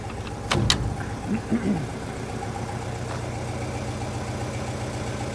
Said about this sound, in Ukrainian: Звук дизеля завжди піднімає настрій.